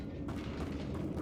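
Bombarda blasting spell going off in Hogwarts Legacy, a dense, sustained rumbling blast filling the short moment with no voices.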